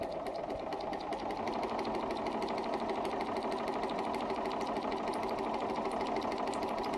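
Bernina 440 sewing machine stitching a curve, a steady close whirring motor with rapid needle ticking running unbroken for the whole stretch, no talk.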